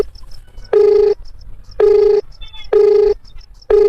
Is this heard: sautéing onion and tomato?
no